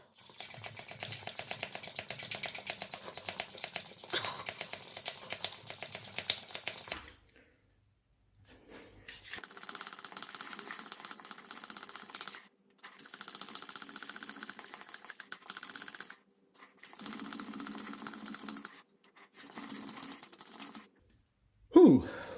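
A small Crivit mini bike pump worked by hand, giving steady rhythmic rasping strokes for several seconds, then broken into shorter bursts of pumping separated by brief pauses, close and moderately loud.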